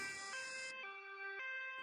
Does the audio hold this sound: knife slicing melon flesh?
no